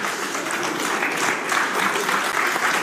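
Audience applause at a pétanque doubles semi-final of the Trophée des Villes 2021 between Marseille and Cahors, a dense steady wash of many hands clapping at even loudness throughout, with no clear talk over it.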